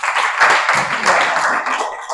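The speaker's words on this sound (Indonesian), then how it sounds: "tepuk tangan dulu, semua hadir" A classroom of students claps hands together on cue, a dense burst of many overlapping claps lasting about two seconds, loud and close, with no speech over it.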